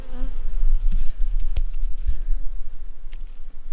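Honey bees swarm around a hive full of honey, making a dense, close buzz of many wings with individual bees droning loudly past.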